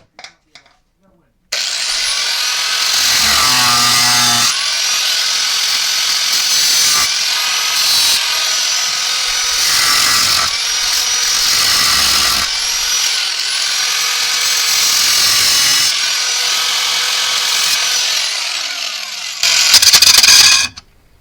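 A power grinder runs loud and close in long continuous stretches with brief dips between passes, starting abruptly after a short quiet opening and surging louder near the end.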